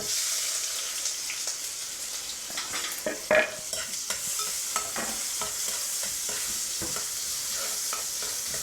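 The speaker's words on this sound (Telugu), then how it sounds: "ఈ ఉల్లిపాయలు బాగా వేగనిద్దాము" Sliced onions fry in hot oil in a home kitchen pan for palak paneer, giving a steady close sizzle broken by repeated scraping stirs. No one speaks.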